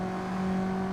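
A Mazda MX5 in the Assetto Corsa racing game runs along the Isle of Man TT course, its engine holding a steady, fairly quiet hum through one short moment.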